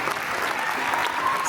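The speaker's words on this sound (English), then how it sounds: "on les applaudit s'il vous plaît" An audience claps in a sustained burst of applause after a boogie woogie dance performance at a dance competition, dense and even for the full stretch with crowd noise mixed in.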